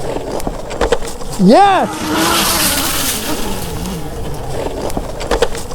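Budget electric mini bike ridden at full throttle on slippery leaf-covered ground, a rising motor whine sweeping up sharply then settling into a steady hum with rustling and scraping, and a rider shouting once.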